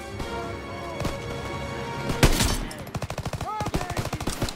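Gunfire in the video game Call of Duty WW2, with a loud shot followed by rapid bursts of machine-gun fire, battlefield din beneath.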